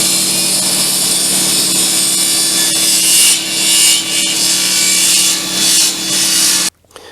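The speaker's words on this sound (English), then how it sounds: "I'll do that on the table saw." A table saw cuts a wooden shotgun stock for a 1920 Ithaca Flues double barrel, trimming its thick butt end; a loud, steady whine with rising and falling cutting noise runs alone for about seven seconds, then stops abruptly.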